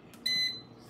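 An oven control panel beeps while a timer is set in a home kitchen, a single short electronic tone heard close and clear against quiet room sound.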